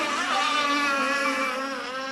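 LS-27 mono-class racing motorboats roar past with a loud, steady, high-pitched engine whine that holds for about two seconds, with no talk over it.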